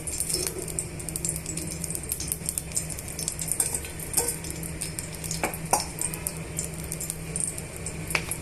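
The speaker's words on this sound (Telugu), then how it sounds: "కట్ చేసి పెట్టుకున్న ఉల్లిపాయ ముక్కలు పచ్చిమిరపకాయలు యాడ్ చేస్తున్నానండి" Chopped onions and green chilies fry in oil in a pan, giving a soft steady sizzle with occasional utensil clinks against the metal, close by and without speech.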